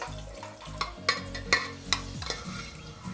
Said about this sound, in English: We'll fry cashew nuts until it turns light golden brown.